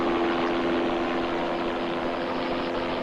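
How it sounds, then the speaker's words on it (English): An RCMP helicopter flies overhead during a steer rescue on an island, giving a loud, steady rotor and engine drone with a constant tonal hum, heard alone with no talk. "especially with the noise from the helicopter itself"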